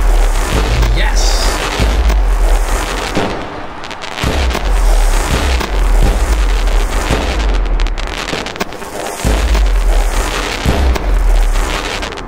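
Rapid fireworks bursts during a pack opening in the baseball management game OOTP25 Perfect Team, with loud repeated booms and crackle continuing steadily throughout.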